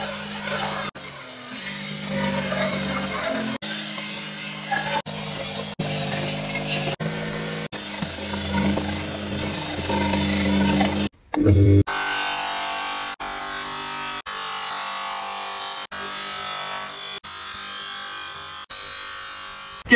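A spatula blade being sharpened in a kitchen, giving a steady, continuous grinding rasp at close range with a brief interruption partway through, then resuming with a slightly different tone.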